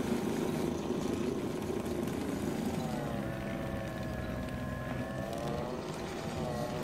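A Spyker KAT 2X tracked snow blower vehicle runs with a steady droning engine hum and a rising then falling whine in the middle, continuous and fairly close.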